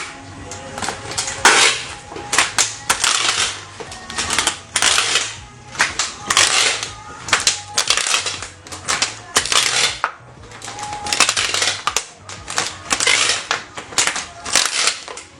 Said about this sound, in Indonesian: Sekarang bagian tengahnya kita lakban kembali.